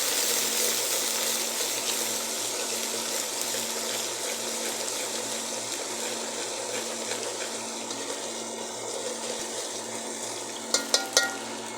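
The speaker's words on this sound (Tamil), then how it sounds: "இஞ்சி பூண்டை போட்டாச்சு கிண்டி விட்டுக்கலாம்" Ginger-garlic paste fries in a pan for a chicken curry, giving a steady, close broadband sizzle throughout with a few sharp scraping clicks near the end as it is stirred.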